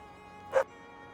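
A single short dog bark or yip in a room, brief and moderately loud against a steady background hum, with nothing else around it.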